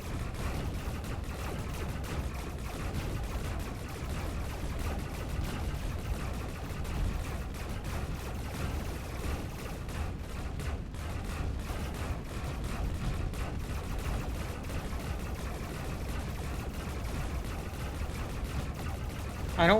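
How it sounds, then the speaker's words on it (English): Tanks attack during a Mindustry battle, producing a continuous low rumble of distant gunfire and booms that stays dense and steady throughout, with no clear individual shots standing out. "the main attack force is coming up now. Look at all those tanks"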